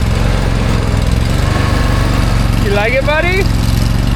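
An Argo Scout chain-drive tracked vehicle runs steadily with a loud, low engine drone while driving, and a person talks briefly over it.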